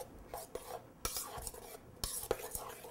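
Frittata ingredients seasoned with salt and pepper are stirred in a bowl, making quiet repeated scraping and swishing strokes at a steady rhythm, soft and close.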